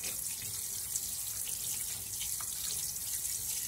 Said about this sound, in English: just rinse all that bloody film that's on the meat off where it's been setting in the package